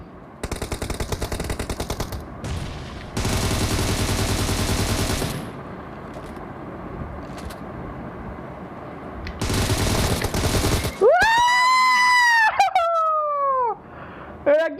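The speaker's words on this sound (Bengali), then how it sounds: "আমি ভুল করে নকটারে গুলি করেছি" Rapid automatic gunfire bursts from a video game, loud and repeated in several long volleys, followed by rising synthetic whistling tones near the end.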